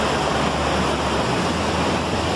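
A large waterfall at Rio Bonito in Juti roars steadily, a loud, dense, unbroken wash of falling water close by with some wind on the microphone.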